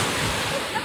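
Rough sea surf churning during a typhoon, a dense, steady roar of waves and wind filling the whole moment without a break.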